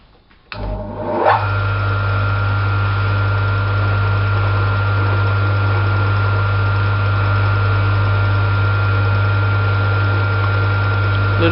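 A Kosmos round bed lathe starts up with a brief clunk and spin-up, then runs at a steady, loud, continuous hum with a strong low drone and mechanical whine, no voices.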